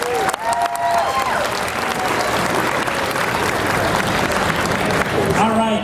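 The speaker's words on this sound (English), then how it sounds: "Round of applause." An audience at the 2013 D23 Expo Disney costume contest gives a loud, sustained round of clapping that fills the whole stretch before fading at the end.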